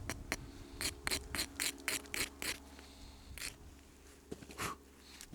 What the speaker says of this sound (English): But I'll abrade first, because remember I've got these spurs here that I don't want.